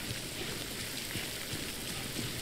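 Timefall rain in the video game Death Stranding pours as a dense, steady hiss of rainfall that fills the whole scene at an even level, with no voices.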